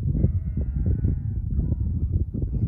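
Sheep bleat repeatedly, close by, at Teifi Pools in Wales, a series of wavering baas overlapping one another in a continuous chorus.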